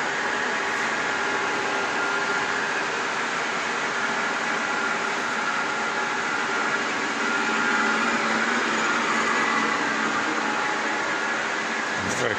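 A Caballeria TR 40 capstan lathe in very good condition runs with a steady, even mechanical hum and hiss, constant from start to finish with no voices over it.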